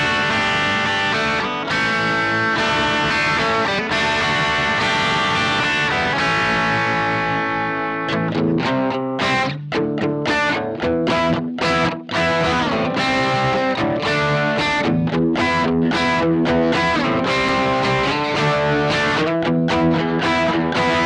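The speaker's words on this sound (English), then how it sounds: "now let's go on to the dirty tones from the Blackstar Fly 3." Distorted electric guitar, a Stratocaster-style guitar played through a Blackstar Fly 3 mini amp, rings out loud and continuous with sustained chords and then choppy riffs and single notes, alone with no talking.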